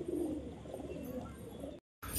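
Betting pigeons coo in soft, low murmuring calls close by, over a steady background hum, before a brief cut to silence near the end.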